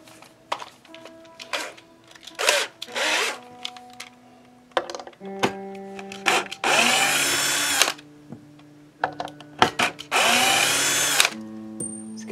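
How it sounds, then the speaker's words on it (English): A cordless drill whirs in repeated short bursts, some brief and some held for about a second, removing neck bolts from an electric guitar, separated by clicks and handling noises close by. "I'm going to take my drill and I'm going to pull this neck out of here"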